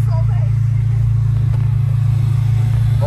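A Honda Civic SI rated at 200 hp accelerates with a loud, steady engine drone heard from inside the cabin, holding a continuous rumbling tone throughout.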